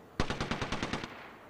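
A short burst of about nine rapid automatic gunshots from a weapon in the video game Apex Legends, evenly spaced and fairly close, then a quiet tail.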